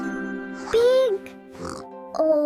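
A pig oinks in two or three short, voiced grunts set into a children's English-learning song, with a musical backing underneath. The oinks sound like a voice imitating a pig.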